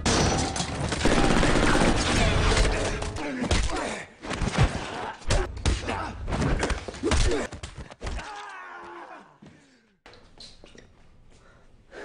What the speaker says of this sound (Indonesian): Gon menjawab dengan tembakan.